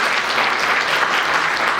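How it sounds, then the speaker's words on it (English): An audience applauds a departing contestant at a school spelling bee, a brief, steady burst of clapping close to the microphone with no talking. "Let's give him a round of applause."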